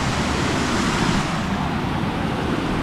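Big river on the Tavy Cleave trail on Dartmoor, water rushing steadily as a loud, broadband roar that holds without break, close by and with no voices over it.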